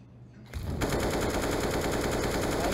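Sustained rapid automatic gunfire from a Counter-Strike match at the Epicenter 2017 SK Gaming vs VP game, erupting loudly after a quiet half-second and continuing as dense, continuous bursts to the end.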